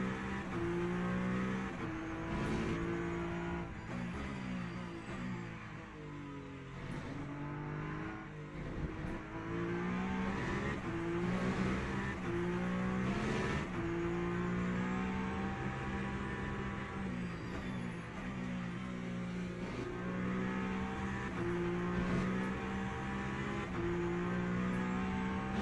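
A hypercar racing in Le Mans Ultimate, with its engine droning and revving steadily through gear changes for the whole stretch, close and continuous with no talk.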